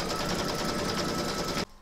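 An embroidery machine stitches a placement round through batting taped over fabric in a hoop, a steady fast-running mechanical whir with rapid needle pulses, close and continuous before stopping abruptly near the end.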